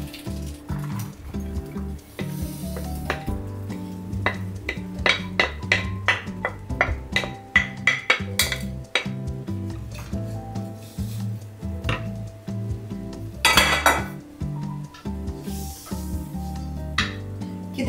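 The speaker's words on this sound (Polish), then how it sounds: "Wrzucam już całą cebulę." Onions sizzle and crackle in a hot pan while frying for pierogi ruskie filling, with scraping and clinking of a utensil against the cookware throughout.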